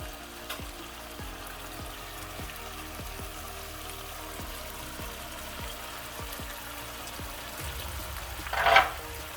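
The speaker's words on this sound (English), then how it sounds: "We'll leave this to cook for about 3 minutes, get the peppers lightish dark brown, and same for the garlic" Peppers and garlic frying in a pan sizzle steadily at close range with faint scraping stirs, ending in a louder brief clatter.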